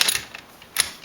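The bolt of a Mosin Nagant 91/30 rifle is worked, giving two quick sharp metallic clicks about a second apart, close and fairly crisp.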